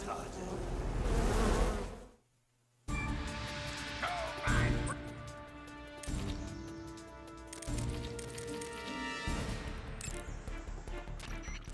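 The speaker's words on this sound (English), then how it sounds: "Snake, watch out for those bullet bees" Buzzing swarm of bullet bees, hornets sent by the Pain in Metal Gear Solid Delta: Snake Eater, a busy insect drone mixed with game music, impacts and crashes, steady and loud apart from a brief silent gap.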